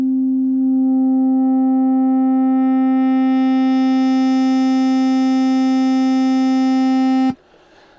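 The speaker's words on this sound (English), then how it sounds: "And there was a high-pitched sort of buzziness to it. Those are the harmonics that you're hearing." Square wave passed through a low pass filter as the filter is raised in frequency, producing a steady buzzy tone whose bright upper harmonics grow in over several seconds before cutting off abruptly, alone without talk.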